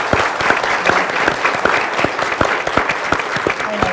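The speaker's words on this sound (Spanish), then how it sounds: "Un aplauso." Audience applause closing a live microbiology society event, steady crowd clapping for several seconds with individual sharp claps standing out.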